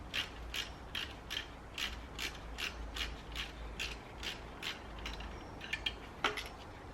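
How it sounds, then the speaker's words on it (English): A ratchet wrench loosens the 13 mm alternator power wire nut on a BMW 335i N54 engine, giving a quiet, rapid series of clicking ratchet strokes in short regular bursts, close by, with a few sharper clicks near the end. "remove the 13 mil power wire that goes to the back of the side"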